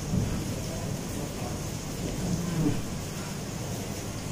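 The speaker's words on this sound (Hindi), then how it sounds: "बारिश हो रही है ज़ोरदार जी।" Steady heavy rain with a low rumbling underneath, like distant thunder, continuous and fairly loud throughout.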